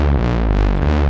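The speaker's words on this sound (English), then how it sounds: "we really like the Mother 32 for bass lines, right? Because it is a monophonic synth." A Mother 32 monophonic analog synth plays a fat, low, sustained bass line with a buzzy, distorted edge and slight pitch shifts between notes, loud and continuous.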